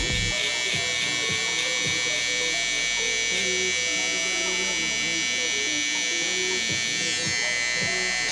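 Electric hair trimmer cutting hair for a high barber taper, a loud continuous close buzz with a steady tone throughout, and a voice talking over it.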